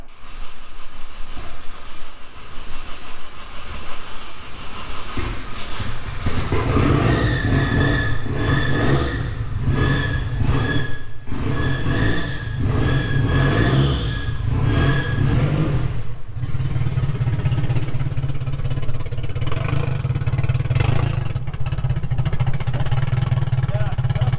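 A turbocharged KA24DE-swapped Datsun running with no muffler on its first drive gives a raw, continuous engine roar, rising and falling in pitch as it moves, loud and close for the whole stretch.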